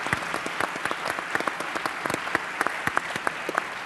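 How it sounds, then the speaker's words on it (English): An audience at Maker Faire Rome applauds for several seconds, with sharp individual claps standing out over a thinner, moderately distant patter of hands. "So let me give a round of applause to Brian and Massimo for the new"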